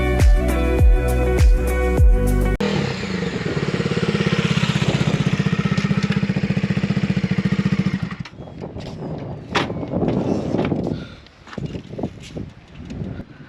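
A Bajaj Dominar 250 motorcycle engine idles and revs, a loud, close, steady rumble that rises and then drops away into rougher, wind-buffeted running, following a short burst of music.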